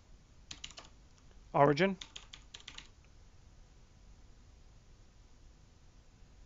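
Keystrokes on a computer keyboard as a git push command is entered in a terminal, a short cluster of clicks followed by a brief louder burst of taps, with a voice speaking over the typing.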